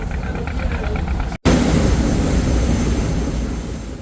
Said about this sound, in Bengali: এই মুহূর্তে অ্যাডভেঞ্চার নয় লঞ্চের বাম পাশের ইঞ্জিন চলছে ছয়শো আরপিএমে